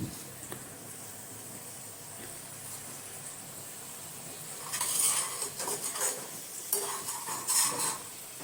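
Spice paste is stirred and sautéed in a pan for an aubergine dish, a soft continuous sizzle with louder bursts of scraping and clinking utensil strokes near the end, no voices.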